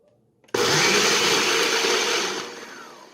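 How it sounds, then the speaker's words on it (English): A kitchen blender whirs loudly as it purees an olive oil marinade for oven-grilled whole tilapia. The motor starts abruptly, runs at a steady roar for about two seconds, then eases down slightly, with no talking. "I have here in my blender about 1/3 cup of olive oil, and I'm going to go ahead and just blend this all up."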